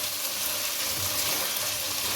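Aloo gobi potatoes are stirred in a hot pan, giving a steady, close hiss and sizzle with faint scraping throughout.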